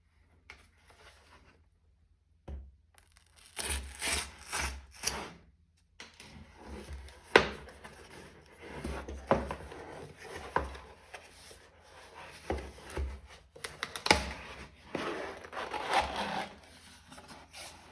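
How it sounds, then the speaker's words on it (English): Cardboard and paper rasping and tearing as a pull tab is drawn along an iPhone 16 Plus shipping box, with scraping bursts and rubbing handling noises, fairly close, after a quiet start. "let's open it up by pulling on this pull tab"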